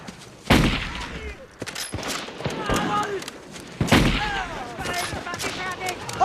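Rifle gunfire in a war film: sharp, loud shots ring out around a battle scene, two heavy blasts standing out among scattered crackling reports, with voices heard underneath.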